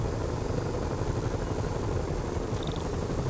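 Helicopter in a Spider-Man video game, a loud, continuous whirring rotor-and-engine drone that stays steady and close for the whole stretch.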